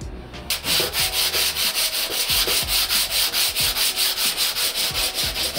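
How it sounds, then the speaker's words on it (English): A broken surfboard is hand sanded with steady, rhythmic back-and-forth strokes, a close, even scratching that repeats about three times a second with no voices. "The hand sanding always makes it extra smooth."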